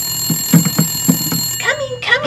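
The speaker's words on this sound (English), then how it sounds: "Oh, that's my phone." A phone rings indoors with a repeating electronic ring tone in several short bursts, then a voice speaks over the end of the ringing.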